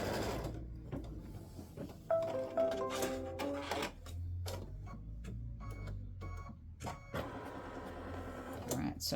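An embroidery machine stitches a placement line for a side panel on a football turkey mug rug, quick bursts of close mechanical clatter interrupted by pauses, with a faint voice briefly audible.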